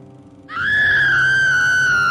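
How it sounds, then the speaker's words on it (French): A loud, sustained scream bursts out suddenly inside an office and holds steady at a high pitch for well over a second, close and piercing. "Mais qui crie comme ça dans l'entreprise?"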